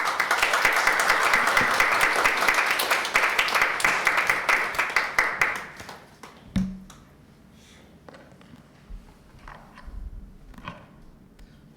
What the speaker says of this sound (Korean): 나오실 때 뜨거운 박수로 맞이해 주시기 바랍니다.